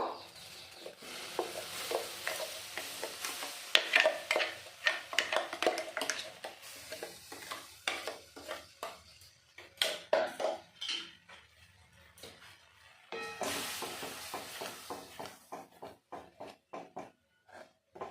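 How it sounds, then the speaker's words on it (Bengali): Coconut sandesh mixture being stirred in a kadai on a gas stove, a spoon scraping and knocking against the pan in irregular bursts with soft sizzling between strokes. "এই সন্দেশটাকে বারবার নাড়তে হবে নইলে নিচেই লেগে যেতে পারে"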